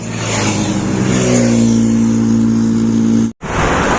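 A loud motor vehicle roars close by on a roadside, its engine tone rising as it passes, before the sound briefly cuts out and resumes.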